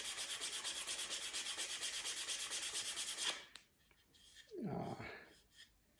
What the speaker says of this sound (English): So I'm just going to sand it down a little bit more here.